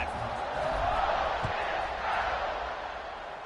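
A stadium crowd in a college football video game, Ole Miss against Minnesota, roars as a broad continuous swell of cheering that rises and eases slightly before a kickoff.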